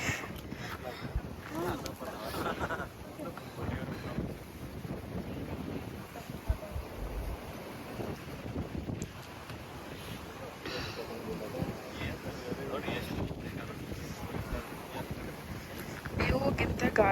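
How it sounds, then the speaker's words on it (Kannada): Strong gusts sweep across the summit of Kumara Parvatha on a mountain trek in Coorg, Karnataka, roaring steadily against the microphone for the whole stretch. "ವ್ಯೂಗಿಂತ ಗಾಳಿ ಸಿಕ್ಕಾಪಟ್ಟೆ ಜೋರಾಗಿ ಸಕ್ಕದಾಗಿ ಬರ್ತಿದೆ."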